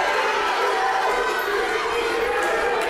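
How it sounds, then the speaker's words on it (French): Steady dense crowd noise at a wrestling event in a large arena, a continuous roar of clapping and shouting, with a commentator's voice over it. "Là, le public qui applaudit Goody."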